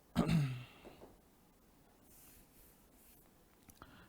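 Marker or chalk scrapes across a board in a chemistry lesson, one quick firm stroke at the start, then soft faint taps and rustles in a quiet room.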